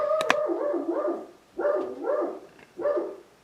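A dog barks and howls several times nearby in a room with a vintage Hallicrafters S-38E radio, the calls drawn out with pauses between them.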